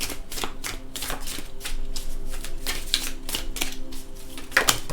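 Tarot cards are shuffled and drawn by hand, with a quick series of crisp riffling snaps and flicks coming in uneven bursts, close and clear, with no talking.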